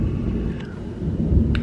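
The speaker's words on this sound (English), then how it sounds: "now I really hear thunder" Thunder rolling during an early-afternoon storm with rain arriving, a low steady rumble filling the whole stretch, fairly close and continuous, with no talk.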